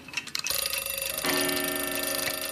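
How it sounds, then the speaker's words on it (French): Pendulum clocks in a clockmaker's workshop keep up a steady, close, bright metallic ringing with sustained tones, the sound rising at the start and holding through to the end. "Thierry Amstutz vit au rythme des pendules qu'il bichonne"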